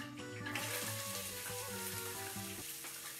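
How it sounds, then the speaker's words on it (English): Chopped onion sizzling in hot oil and meat fat in a pan for Bukhara oshpelo chicken rice, a steady close hiss of frying with stirring, while a person talks over it. "To the pan, I am adding one large onion that I already chopped."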